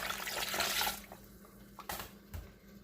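Half a cup of water, used to rinse a mixer jar, poured into fish head curry masala paste, a close splashing pour for about a second followed by a few small drips and clinks.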